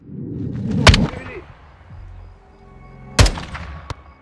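Two loud, sharp gunshots ring out about two seconds apart in Call of Duty: Modern Warfare 2 (2022), with quieter game noise and low voices between them.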